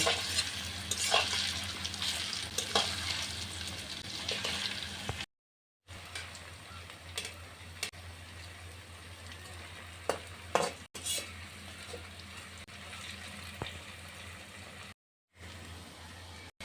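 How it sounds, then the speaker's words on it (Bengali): Cauliflower pakoras fry in soybean oil with a steady, close sizzle, broken by a few utensil clicks and scrapes as the pieces are turned, and two brief silent gaps. "এভাবে আমি এপিট উপিট করে"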